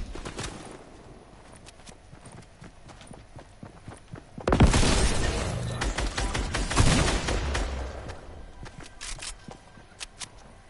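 Gunfire in a live-streamed video game, with bursts of rapid shots and loud blasts dominating the middle, then lighter clicks and faint steps.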